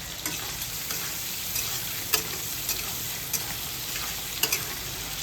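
Prawns fry lightly in a pan with onion, ginger, garlic, green chili paste and tomato, giving a soft, steady sizzle with occasional ticks and stirring taps, fairly quiet and unaccompanied by speech.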